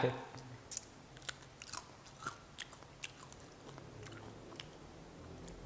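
Someone bites and chews a crispy baked fish snack, giving a series of small, sharp crunches spread irregularly, close and fairly quiet.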